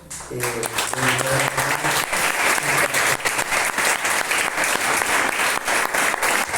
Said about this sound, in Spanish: Le pido un aplauso a Dios.